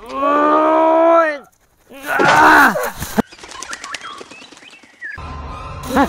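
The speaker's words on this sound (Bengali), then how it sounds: "আরে আরে পাখিগুলো তো সব উড়ে গেল রে, সব উড়ে গেল" A flock of birds takes off with a rush of flapping wings, preceded by loud, drawn-out animal calls resembling mooing. Bursts of wingbeats follow before a final noisy passage.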